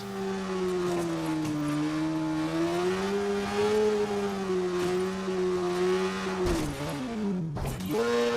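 A car engine in the Watch Dogs video game hums loudly and steadily while driving on the wrong side of the road, its pitch dipping and rising near the end.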